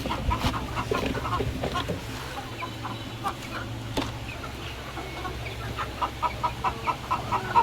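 Hens clucking in a poultry shed during hot weather, a flock's busy overlapping calls with a run of rhythmic clucks growing louder toward the end, nearby and without talk.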